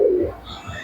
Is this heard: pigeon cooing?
yes